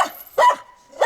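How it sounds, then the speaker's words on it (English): A dog barks in short, loud bursts, three sharp barks spaced with pauses, close to the listener with no other sound between them. "But you should really stop barking all the time."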